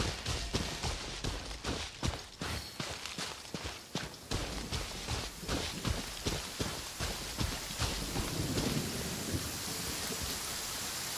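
Steady rain pours throughout with repeated sharp cracks and rumbles of thunder, loud and close, no voices, in the video game Genshin Impact.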